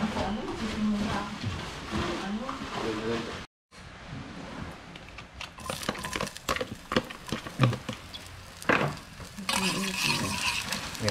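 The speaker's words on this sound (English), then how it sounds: "Then we're gonna add some onions, saute that, and then we're gonna add the spinach." Onions and then spinach sautéing in oil in a pan, a steady sizzle with stirring clatter and utensil scrapes throughout, briefly cut off by a short gap, with a voice talking over the cooking.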